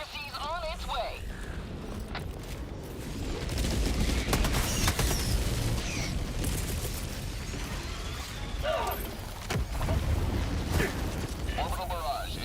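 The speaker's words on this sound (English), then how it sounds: "Orbital barrage incoming." Orbital barrage explosions in Helldivers 2 rumble and crack in a dense, continuous volley, swelling louder midway, mixed with game effects and voices talking over the din.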